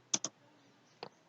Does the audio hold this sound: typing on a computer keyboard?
yes